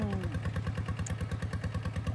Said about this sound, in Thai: รถไถเดินตามเนี่ยไม่หมดสักทีนะครับ ยังมีคนใช้อยู่เหมือนเดิมนะครับ